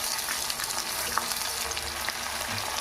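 Potato, tomato and green chilli pieces frying in a pan with turmeric, giving a steady close crackling sizzle with faint stirring throughout, no voices.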